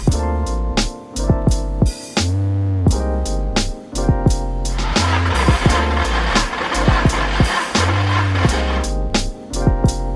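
Nissan SR20DET engine cranking over on the starter during a compression test, a loud, rhythmic chugging with regular pulses and brief pauses between cranking runs.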